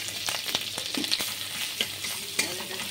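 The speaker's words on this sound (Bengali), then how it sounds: "তেলের সাথে ভেজে নিচ্ছি।" Whole cumin, crushed black pepper, grated ginger and cloves frying in hot oil for a restaurant-style mixed vegetable curry, a close, crackling sizzle punctuated by sharp pops and a few spoon scrapes.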